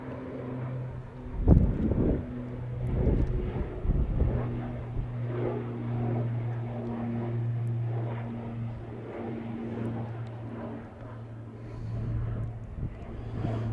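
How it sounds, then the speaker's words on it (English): ATR 76 turboprop airliner departing Manchester Airport on a windy day, a steady distant propeller drone with a low humming tone and wind buffeting throughout. "First prop departure"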